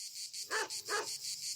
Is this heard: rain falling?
no